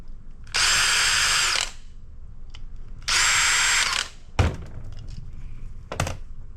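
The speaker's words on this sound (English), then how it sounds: "We've got a couple of screws to get out of here." A power screwdriver backs screws out of stacked circuit boards, two loud whirring bursts of about a second each, followed by a couple of sharp knocks as parts are handled, with no talk.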